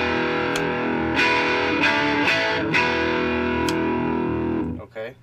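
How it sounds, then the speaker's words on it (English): An electric guitar on the distortion channel plays through a 1967 GE hi-fi converted into a guitar amp, loud sustained fuzzy chords with several sharp strums and ringing decay that cuts off near the end. "Now here, we're gonna run just straight distortion channel."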